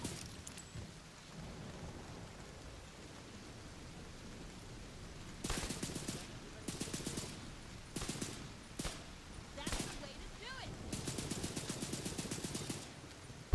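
Several bursts of gunfire from The Division 2 video game, loud clustered volleys of rapid shots starting midway through, separated by short gaps over a quieter rumbling background.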